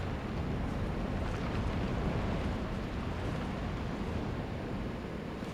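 Steady, even wind rushes in Elden Ring's Crumbling Farum Azula, a loud broadband whoosh with no gusting breaks and no talk.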